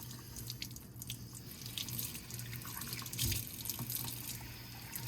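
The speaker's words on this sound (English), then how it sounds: "You just wanna rinse it right off with a low pressure water." Low-pressure warm water rinsing over a car's air filter, a steady running stream splashing and dripping close by, with a low hum underneath and no talking.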